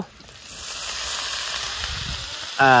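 Jackfruit flowers dry frying in a pan give a steady broadband sizzle throughout, with a louder, brighter burst of frying near the end.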